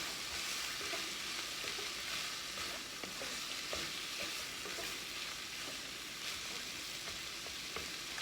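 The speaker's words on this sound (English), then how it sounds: "I'm gonna stir that around." Ground turkey, sweet potato and sage sizzle steadily in a single pan as they are stirred. Light scraping and clicking from the stirring sounds close over a continuous frying hiss, with no talking.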